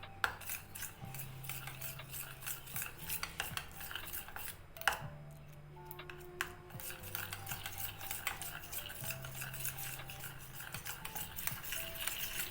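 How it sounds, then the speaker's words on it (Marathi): A spoon beats ghee and cornflour together in a bowl, giving steady rhythmic scraping and clinking strokes of metal on the dish, close and fairly quiet, with one sharper knock partway through. "याच्यामध्ये कॉर्नफ्लोअर घालायचं 1 चम्मच छोटा आणि छान फेटून घ्यायचं चमच्याने"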